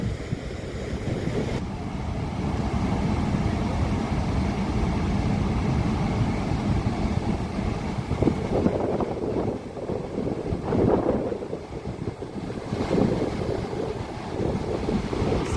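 Gaganachukki Falls roars as a steady, loud, broadband rush of falling water mixed with wind buffeting the microphone, continuous throughout with no voices.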